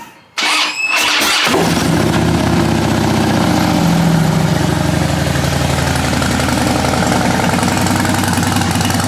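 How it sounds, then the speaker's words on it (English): A Harley-Davidson motorcycle cold-starts close by: a brief starter crank catches into a loud, deep, lumpy idle that rumbles steadily and unbroken to the end. "I guess, a cold start."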